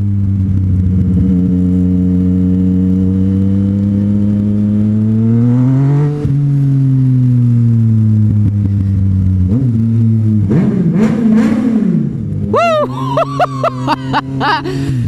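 A Yamaha FZ09 motorcycle fitted with a Black Widow full exhaust idles steadily, then revs repeatedly in loud, close bursts that climb sharply toward the end.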